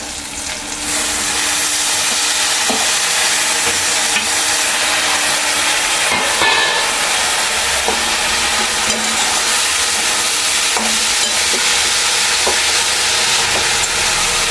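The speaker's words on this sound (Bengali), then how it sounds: "এবার ভালো করে ভাজা করে নেব" Chopped greens and onion shoots stir-fried in a pan with a little salt and turmeric, giving a steady loud sizzle broken by repeated scraping and clattering stir strokes throughout, with no voices.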